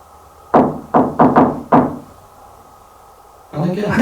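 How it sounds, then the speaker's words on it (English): Four sharp knocks in an allegedly haunted house, the third and fourth close together, loud and near, followed by a lull and then the rising rumble of a voice or movement. "Was that a knock?"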